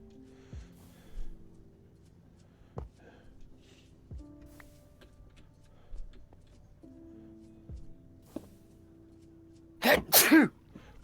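Two quick sneezes burst out near the end, loud and close, after a long stretch of quiet background tones and faint clicks.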